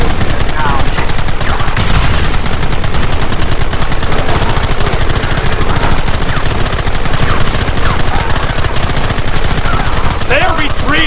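Continuous heavy gunfire in the Western video game Red Dead Redemption, rapid overlapping shots and bursts crackling densely for the whole stretch, loud and close, with shouted voices mixed in near the end.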